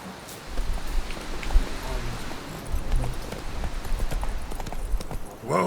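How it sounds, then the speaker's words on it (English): A horse gallops in The Witcher 3 video game, its hooves clip-clopping in a fast, steady rhythm at moderate volume, with a brief voice near the end. "Whoa there, Roach."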